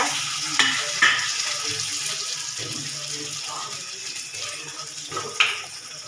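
Onion and tomato frying in hot oil in a pan, with a steady crackling sizzle throughout and a few sharper clatters, close and moderately loud, without talk.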